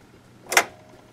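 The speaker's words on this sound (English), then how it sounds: "I'm just going to push this lever down" A single short click-and-swish as the needle threader lever on a Brother 5234PRW serger is pushed down, brief and close against a quiet background.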